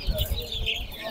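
Chicks at the Sabunçu poultry market chirp in a brief burst of thin, high peeping over a busy market background.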